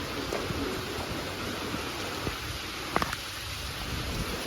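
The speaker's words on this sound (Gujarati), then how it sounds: "મોસમ જોઈ લ્યો ભાઈ વરસાદનું તમે અત્યારે" Steady unseasonal rain pours outdoors as a soft, continuous hiss, fairly faint, with a couple of brief nearby drips standing out midway.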